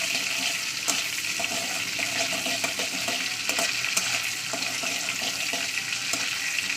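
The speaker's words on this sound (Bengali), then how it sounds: "তেলটা একটু গরম হলে দিয়ে দিচ্ছি ফোড়নের জন্য" Dried chili and cumin tempering in hot oil in a home kitchen: a loud, steady, close hiss of sizzling, dotted with small pops and stirring clicks, with no voices.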